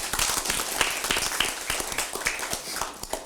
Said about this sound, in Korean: 한 분 한 분 소개할 때마다 큰 박수 부탁드립니다